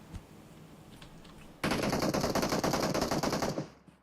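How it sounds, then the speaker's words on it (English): Automatic gunfire in the mobile battle royale game PUBG Mobile, a rapid burst of hip-fired shots erupting loudly after a quieter start and running for about two seconds before cutting off. "As he gets the hip fire knock onto Ripson."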